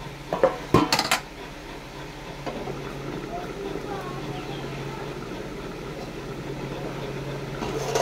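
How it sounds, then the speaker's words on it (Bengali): Metal lid lifted off a cooking pot of prawn and okra curry, a few sharp clanks near the start followed by a steady low simmering hum, with no talking. "ঢাকাটা খুলে নেবো 5 মিনিট।"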